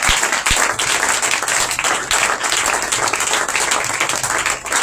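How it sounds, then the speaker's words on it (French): A church congregation at a Feast of Tabernacles opening conference applauds the servants of God, producing dense, loud, sustained clapping from a large crowd throughout. "Est-ce qu'on peut acclamer pour eux?"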